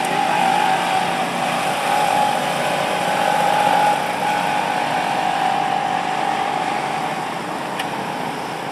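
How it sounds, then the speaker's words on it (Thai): A truck hauling stones for a construction site in Vientiane's Pakpasak area rumbles steadily nearby, a continuous engine drone with a droning hum that fades slightly toward the end, with no talk over it. "อันนี้แม่นรถที่ว่าขนหินเนาะ"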